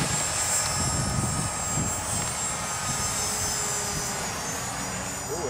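T-Rex 450 RC helicopter spinning its rotor at high head speed, a loud, steady whirring drone with a high whine that holds for the whole stretch, with no talk over it.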